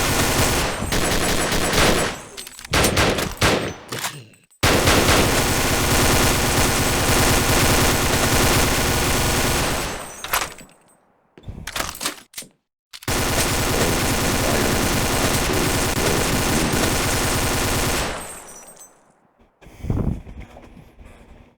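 A minigun roars in the Sven Co-op video game in long sustained bursts of rapid automatic fire, with short gaps and some brief choppy shots between them, loud and dense throughout.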